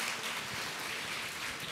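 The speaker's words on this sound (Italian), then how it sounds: "Chiedo un applauso gentilmente." Faint, steady applause from a crowd, a dense patter of clapping heard at a distance throughout.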